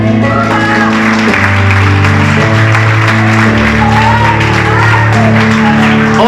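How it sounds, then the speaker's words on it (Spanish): Clapping, with scattered shouts, rises from a church congregation applauding God during a sermon, heard over loud sustained keyboard or organ chords that change pitch. "Dele un aplauso a Él"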